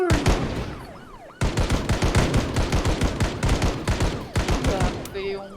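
Rapid gunfire in the Project Zomboid video game, a dense stream of loud automatic shots that pauses briefly and then resumes, with faint talk and a siren-like wail beneath.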